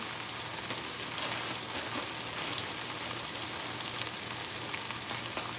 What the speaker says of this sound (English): Basically like frying up the tomato.